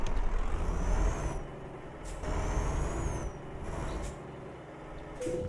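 A heavy truck in Euro Truck Simulator 2 sets off, air brakes hissing and releasing in several sharp bursts over a steady low diesel rumble, all close and fairly loud.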